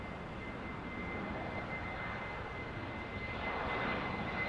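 An airliner jet at Los Angeles International Airport gives a steady, continuous engine roar with a faint high whine, swelling slightly louder toward the end, with no voices.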